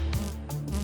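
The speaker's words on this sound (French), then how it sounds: "Un insecte! Une abeille! Elle vole à 30 km à l'heure." A bee flies past, its buzzing wingbeat swelling and fading in short close passes, alone and fairly faint.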